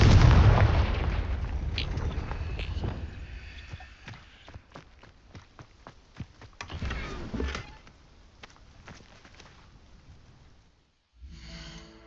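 An explosive Confringo spell blast from the video game Hogwarts Legacy, a loud booming burst that rumbles and decays over several seconds, followed by scattered sharp crackles and impacts, then a brief silence and a softer burst at the end.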